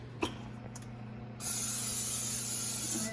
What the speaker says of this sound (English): I'm just gonna spray my pan a little bit.